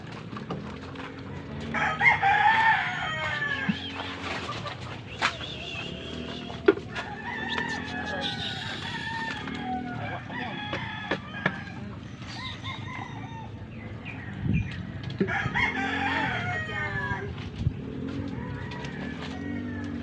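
Chickens cluck and a rooster crows repeatedly in a busy farmyard, with pigeons and other birds calling and scattered bumps in the background.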